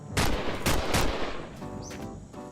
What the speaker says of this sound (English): let's waste some bullets.